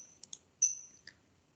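A computer mouse clicks several times at close range, a quick pair of light clicks, a sharper one, then a final click, in an otherwise quiet room.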